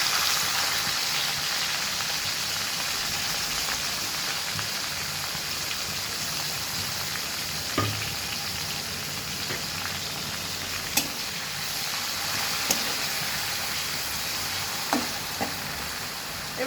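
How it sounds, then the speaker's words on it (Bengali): Cumin, dried chilli and bay leaf sizzle steadily in hot oil, a continuous close frying hiss with a few sharp pops and crackles, no talking. "এবার আমি জিরে, শুকনো লঙ্কা আর তেজপাতা ফোড়নে দিয়ে দিলাম"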